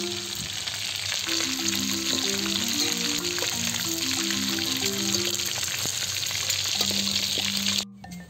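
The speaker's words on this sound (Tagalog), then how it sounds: "Bahagyang prito lang muna bago tayo mag-isa." Native chicken pieces lightly frying in oil, a steady dense sizzle and crackle holding close and even for several seconds before cutting off abruptly near the end, with a faint low tonal hum underneath.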